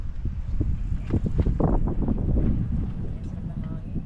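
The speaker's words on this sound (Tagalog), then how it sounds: "Sarap ng hangin. Lumalamig na yung hangin niya." Wind blowing at the Tanay Highlands campsite during an overnight car-camping trip, a steady low buffeting rumble across the microphone that stays loud throughout, with murmured voices underneath.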